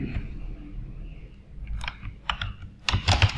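Keys on a computer keyboard are tapped during an accounting entry in Excel, with soft scattered clicks that build into a quick, louder burst of typing at the end.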